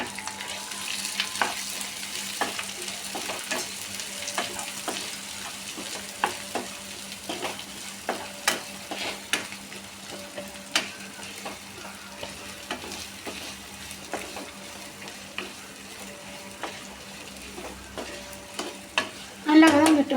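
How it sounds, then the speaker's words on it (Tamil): Chopped shallots sautéing in a pan for mutton chuka: a steady sizzle runs throughout, broken by repeated sharp scrapes and clinks of a spoon stirring against the pan, close and clear with no talk. "அதையும் போட்டு நல்லா வதக்கிடணும்"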